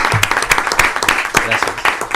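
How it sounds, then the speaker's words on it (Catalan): An audience at a lecture gives applause in honor of Josep Molés, a loud close burst of clapping hands with sharp uneven claps, while a voice talks over it. "m'agradaria dedicar-li un aplaudiment per la seva tasca"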